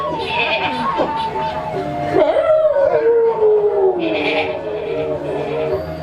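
A goat bleats loudly and close by in a drawn-out, wavering call, heard amid talk and background noise at a village temple ceremony in Bali.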